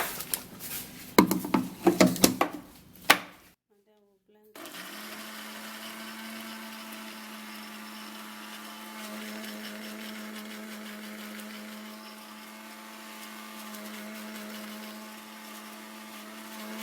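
A blender whirs steadily at close range blending banana peel with a little water, after a few loud clunks and clatters, its motor holding a constant hum throughout.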